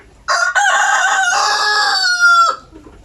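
A single loud, close rooster crow, one long drawn-out call lasting about two seconds, with no talking.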